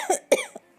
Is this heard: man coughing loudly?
yes